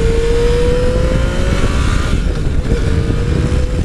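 A 2016 Yamaha FJ09 motorcycle revs on a downshift while riding during Laconia Bike Week. The engine note is loud and close, with its pitch climbing, mixed with steady road and wind rush.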